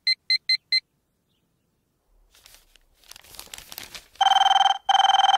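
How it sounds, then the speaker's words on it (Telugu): A telephone rings in two bursts: four quick electronic chirps at the start, then after some rustling and crinkling, a louder, sustained ring near the end. "అబ్బా, ఈ ఫోన్లో చంపేస్తున్నా."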